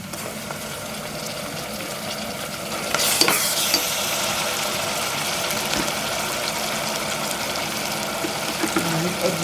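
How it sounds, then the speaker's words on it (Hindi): Garlic and ginger frying in a hot pan for a Fiji-style beef curry, with a steady close sizzle that jumps louder about three seconds in as they hit the oil and keeps crackling evenly. "अब इसमें मैं गार्लिक और जिंजर डालती हूँ।"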